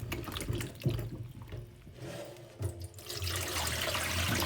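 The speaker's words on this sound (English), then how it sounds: "Rinse few times under running water to get away from the dirt, dust, or debris" Tap water runs steadily while dried mushrooms are rinsed under the stream, a continuous close splashing wash with a few louder bursts as the food moves through the flow.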